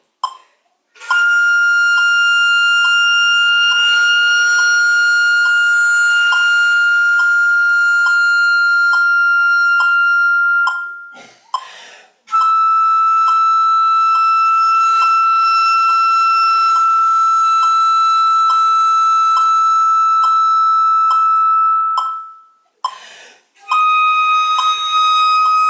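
A wind instrument holds a high third register F through three long sustained notes separated by short breath gaps, clear, piercing and steady, heard up close with no talking.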